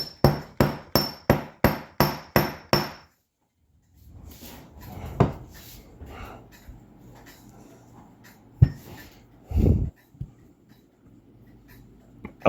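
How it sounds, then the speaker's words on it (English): A hammer strikes a wire tip on a steel block seven times in a quick, even series, sharp and close, followed by quieter handling clatter and a few scattered taps. "So I'm gonna put it on my steel block here and flatten the very tip."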